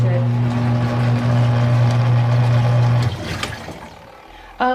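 A 2019 Giantex portable mini washing machine running its rinse, a loud steady motor hum with a tonal drone that cuts off after three seconds, then splashing water and a clunk near the end.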